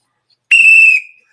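A single sharp whistle sound effect blows once after a moment of silence, holding a bright steady tone for about half a second before cutting off with a short fading tail.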